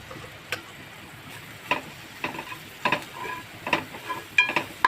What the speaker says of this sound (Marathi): तेलामध्ये फ्राय करून घेते